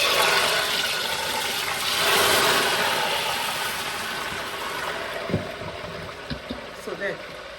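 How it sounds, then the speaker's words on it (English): Locust beans (iru) fry in a pot for smoky aya mase, giving a steady, dense sizzle that swells and fades, with a few sharper pops and crackles near the end. "the locust beans is frying now"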